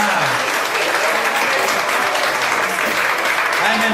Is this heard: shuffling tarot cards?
no